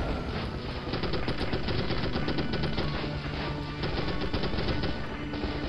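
Anti-aircraft triple-A fire in the 1998 game M.I.A. Missing in Action: continuous, dense, rapid rattling gunfire, loud and steady throughout with no pauses.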